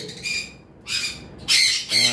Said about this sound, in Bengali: এখানে আপনারা দেখতে পারতেছেন একটা পেয়ার লাভবার্ড রয়েছে